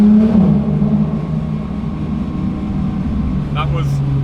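Exhaust of a Porsche 992.2 GT3 drones low and loud inside a tunnel, settling after a rev to 4,000 RPM into a steady echoing hum, with a brief voice near the end.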